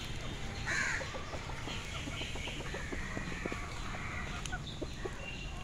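Native chickens pecking at scattered rice outside on a farm, with soft clucks and scattered pecking taps over a steady outdoor background, a few brief calls standing out, no talking.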